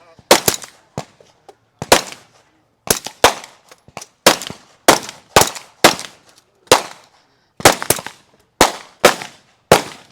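Sharp, loud gunshots from a team shooting competition stage at the 2024 Magpul Showdown, including one-handed pistol fire, cracking out in irregular bursts of single and paired shots with brief echoing tails and short pauses between.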